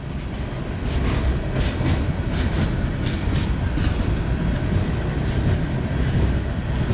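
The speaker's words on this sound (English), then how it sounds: "Well, there's a westbound for you." A westbound Union Pacific freight train rolls past at Missouri Valley, a steady loud rumble of wagons with rhythmic clickety-clack of wheels over rail joints running throughout, with no voices.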